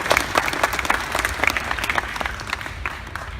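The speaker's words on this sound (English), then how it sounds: "You can applaud for him." Audience applause at a Colossalcon 2016 convention panel with Chuck Huber, dense clapping from a room of fans, loud and steady for a few seconds without talk.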